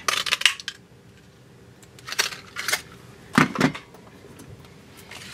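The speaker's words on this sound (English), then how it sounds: "We're going to cut this out using the Classic Label punch." A Classic Label paper punch works through card stock, several sharp clacks and crunches in separate bursts with quiet gaps between, close and crisp.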